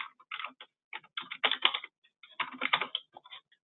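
Close, quick typing on a computer keyboard in several short bursts of rapid key clicks, separated by brief pauses, with no voice.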